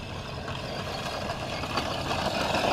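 An Axial SCX10 II Deadbolt RC crawler climbs a dirt hill, its small motor giving a steady, dense whirring drone that rises slightly toward the end.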